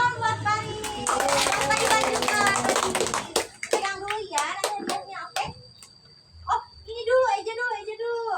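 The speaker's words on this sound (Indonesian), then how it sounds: "tepuk tangan buat Baris" A classroom of kindergarten children claps for their classmate Baris, a dense burst of hand claps lasting about three seconds, then scattered claps and children's voices with a teacher speaking.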